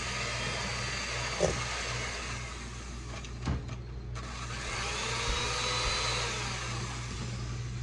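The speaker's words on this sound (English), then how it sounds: "I'll unplug the blender real quick." A blender shredding canned chicken runs as a steady, loud motor whir throughout, with a couple of brief clunks from the contents, in a home kitchen.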